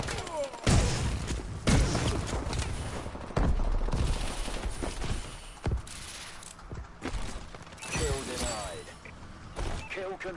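Cauterizer weapon gunfire in a video game, with several sharp, loud bursts of shots and impacts spread irregularly over busy game noise, mixed with a voice talking.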